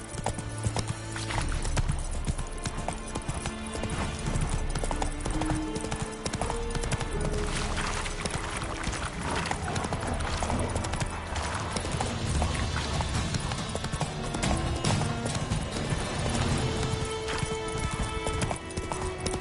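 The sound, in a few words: horse Roach galloping in The Witcher 3 video game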